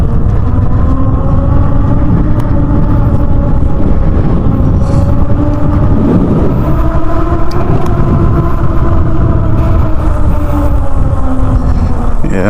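Happyrun G300 PRO electric dirt bike riding through a run-down part of town, a steady loud motor whine with rising and falling harmonic tones and constant road rumble throughout.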